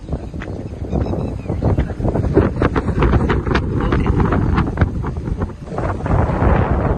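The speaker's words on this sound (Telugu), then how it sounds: "ఆహాహా, ఏం గాలి, ఏం గాలి" Steady, loud wind at a farmhouse buffeting the microphone throughout, a continuous rushing roar with gusty surges.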